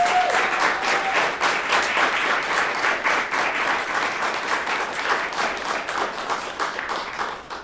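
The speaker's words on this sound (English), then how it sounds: "so how about another round of applause?" An audience at the Alaska Poetry Out Loud 2023 state competition applauds in a dense, sustained round of clapping that fills the room and gradually tapers toward the end.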